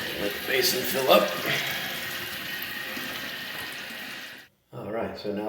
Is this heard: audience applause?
no